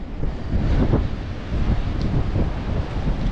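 Strong, cold wind sweeps steadily across open water, a continuous close roar buffeting the microphone with gusty swells and no voices.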